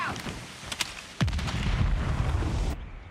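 A frag grenade detonates in Call of Duty Mobile during a competitive esports match: a few sharp cracks lead into a loud, rumbling blast that rolls on for over a second before cutting off.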